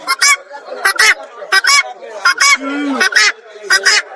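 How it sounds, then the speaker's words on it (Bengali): A guinea fowl at the Hemayetpur bird market gives loud, repeated harsh calls in quick bursts, close by, with quieter background murmur between cries. "এখানে দেখুন একটি তিতির মুরগি ডাক পারতেছে কত সুন্দর"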